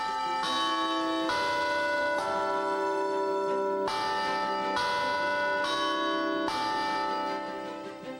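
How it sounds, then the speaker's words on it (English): Campus bell tower bells chiming a sequence of rich, ringing tones, each strike layered over the sustained hum of the previous ones, loud and steady with no voices. "you hear the bells chime every 15 minutes"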